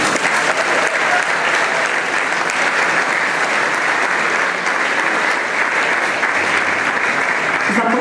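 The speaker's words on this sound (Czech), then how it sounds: "Určitě si zaslouží váš potlesk." Audience at a folk music festival in Břeclav claps steadily and densely for several seconds, a sustained, even wash of applause with faint crowd murmur underneath.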